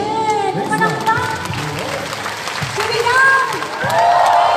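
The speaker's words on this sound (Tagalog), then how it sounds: "Palakpak." A church congregation at an El Shaddai family gathering bursts into applause, a dense crowd clapping that swells and holds under a loud voice speaking over it.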